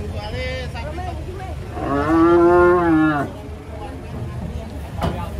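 A cow lets out a loud, drawn-out moo lasting about a second, close by, amid outdoor background noise and people talking.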